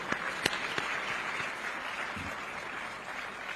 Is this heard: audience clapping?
yes